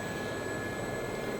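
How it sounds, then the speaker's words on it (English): A Gazelle helicopter's turbine runs at full power in the DCS flight simulator: a steady, unbroken engine roar with a constant high whine layered on top, holding level throughout. "Now we have our engine on full."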